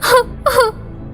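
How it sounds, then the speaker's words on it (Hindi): A cartoon fox crying in a jungle, two drawn-out wailing sobs in quick succession, loud and close, rising then falling in pitch. "तभी उसे किसी की रोने की आवाज आती है।"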